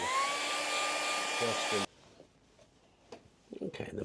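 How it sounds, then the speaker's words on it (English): A hair dryer blows loudly with a steady whine for a couple of seconds, then cuts off, leaving quiet rustling and faint scraping. "magic of the hairdryer"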